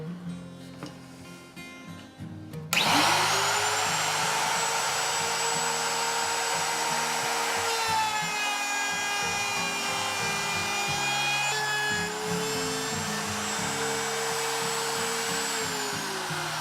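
A router starts up with a sudden high whine after a short quiet stretch, then keeps cutting wood steadily, its pitch wavering slightly under load.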